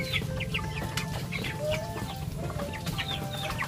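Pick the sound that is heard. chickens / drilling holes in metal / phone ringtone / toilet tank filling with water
chickens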